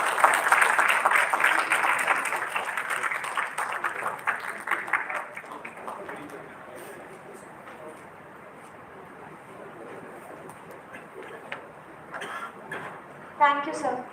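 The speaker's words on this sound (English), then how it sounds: "Please give sir a huge round of applause." An audience at a felicitation ceremony claps, with dense sustained applause at first that fades gradually into scattered clapping and room noise, and a voice is heard near the end.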